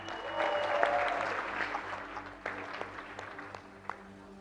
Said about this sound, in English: let's really give a big round of applause for the newlyweds.